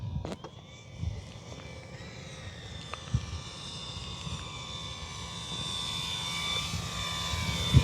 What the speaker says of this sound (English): Guys, this plane has been a joy to fly.